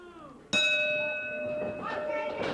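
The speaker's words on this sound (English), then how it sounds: "The bell sounds." A wrestling ring bell strikes once at the start of a Big Time Wrestling match, a sharp loud clang that rings on with a long sustained decay while crowd noise rises behind it.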